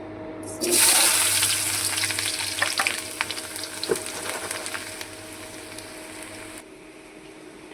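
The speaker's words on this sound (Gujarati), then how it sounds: "તો હવે વઘાર કરશું આપણે" Spices tempering in hot oil for a home Gujarati lunch give a loud burst of sizzling that settles into steady crackling frying with a few sharp pops, then cuts off abruptly.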